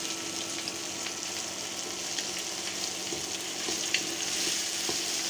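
Five pieces of rohu fish frying with onions, green chillies and dried red chillies in a pan, a steady close sizzle with light crackles and occasional stirring clicks.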